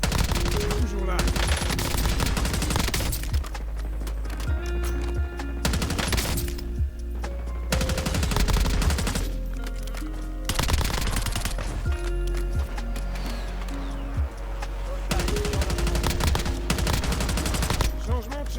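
Rapid automatic gunfire from Call of Duty Black Ops 7 Warzone gameplay, loud bursts repeating across the whole stretch with short gaps between volleys, over a steady game soundtrack.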